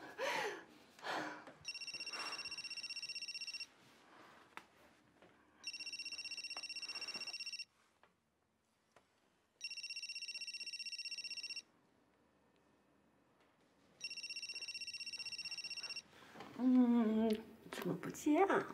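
A telephone rings in four evenly spaced bursts of bright electronic trilling, each about two seconds long with pauses between, and people speak before and after the rings.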